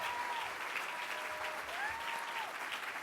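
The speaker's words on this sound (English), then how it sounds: "Please join me in giving a warm round of applause to Loretta J. Ross." Audience at an awards dinner clapping in a steady, dense round of applause that holds throughout, moderately distant with no voices over it.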